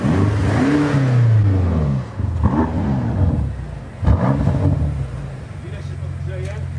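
A 625-horsepower BMW M5 engine revs while warming up, its low rumble rising and falling beneath people talking close by.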